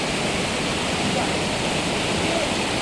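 Clear, icy water of the Neelam River in Azad Jammu Kashmir rushes in a steady, loud, unbroken roar that fills the whole stretch with no pauses.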